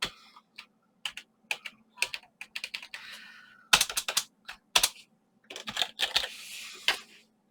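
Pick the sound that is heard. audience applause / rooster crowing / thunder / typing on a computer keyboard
typing on a computer keyboard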